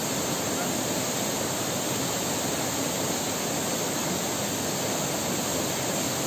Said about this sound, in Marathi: तुम्ही बघू शकता की आता हा एक धबधबा आहे